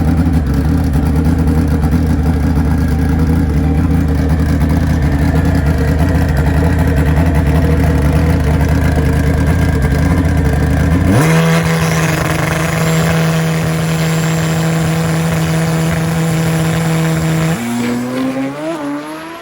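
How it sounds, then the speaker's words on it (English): An ultra-fast turbo drag racing motorcycle roars down a very sticky test track in one loud, continuous, close run. The engine pitch jumps sharply partway through and again near the end as the throttle comes off. "And here comes another one of the ultra-fast turbo bikes."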